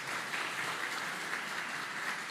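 A church congregation breaks into steady applause for a correct answer during a sermon, a dense, even wash of many hands clapping with no talk over it.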